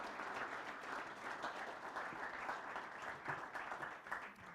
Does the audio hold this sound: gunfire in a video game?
no